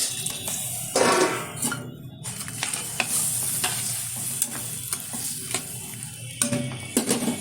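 Fried pomfret fish pieces go into a simmering curry with potato and ash gourd, bringing a loud sizzle, stirring and several sharp clinks of utensils against the pot.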